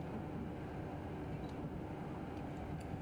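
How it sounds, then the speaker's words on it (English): A bullet train in a train-driving simulation game rushes past in a yard, a steady low rumbling roar that stays even throughout the short stretch with no talking. "there's a speedy train in this yard now"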